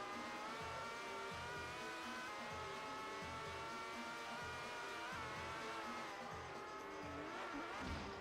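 Sidecar racing outfit in the TT Superbikes video game on the Castletown road course, its engine droning loud and steady with layered harmonics, tyres squealing and skidding throughout, no voices.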